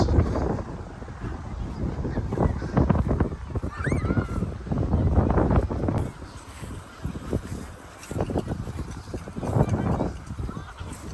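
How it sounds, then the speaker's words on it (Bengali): Strong gusty wind buffets the microphone outdoors in rough, rumbling bursts, with faint traffic and other background noise underneath. "অনেক বাতাস আজকে কয়েকদিন ইচ্ছা মতো গরম আজকেও গরম ছিল বাট বাইরে ভালো বাতাস"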